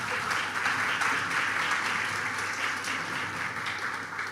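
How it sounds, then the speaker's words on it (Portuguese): Audience at a business forum in Brazil applauds steadily, a continuous, even patter of many hands heard from within the room, with no talk over it. "Palmas, pessoal, por favor."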